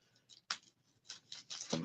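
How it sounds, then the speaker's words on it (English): Scissors snip open a plastic Hasbro accessory pack for a Studio 86 Bumblebee figure: a sharp close cut, then a quick run of crisp snips and crinkling plastic, alone in a quiet room. "Let me cut that open"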